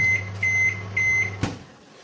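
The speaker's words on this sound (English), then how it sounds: "Let's hear your pingers." A kitchen timer pinger goes off over a steady low hum, sounding three high, even beeps in a regular rhythm, followed by a short clunk, close and fairly loud with no talk.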